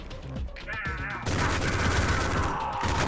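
Rapid gunfire in the retro shooter Ion Maiden, a few separate shots at first, then a dense continuous burst of firing, loud and close, with a voice talking over the start.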